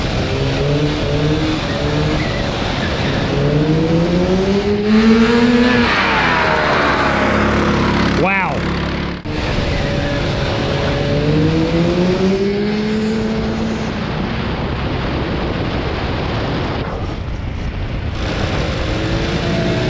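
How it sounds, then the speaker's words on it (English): Go-karts with degoverned Honda 8 horsepower engines buzz and rev continuously around a race track, pitch rising and falling through acceleration and corners, with a kart passing close by, loud and sustained without talk. "They're powered by degoverned Honda 8 horsepower engines, capable of between 40 and 45 miles an hour in the straightaways."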